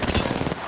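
Rapid burst of gunfire in the Apex Legends video game, loud and dense for about half a second before cutting off, with no talk over it.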